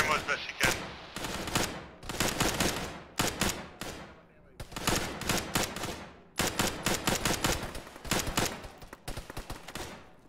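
Gunfire crackles in a military video game firefight, with repeated loud bursts of automatic fire broken by short pauses and scattered single shots.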